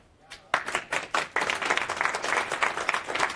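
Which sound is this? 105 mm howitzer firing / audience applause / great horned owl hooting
audience applause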